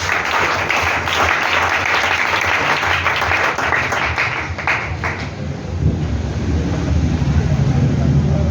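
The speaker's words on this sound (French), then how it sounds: "Acclame Jésus." A church congregation applauds steadily, a dense sustained clatter of many hands that thins out toward the end as the room tone and low murmuring take over.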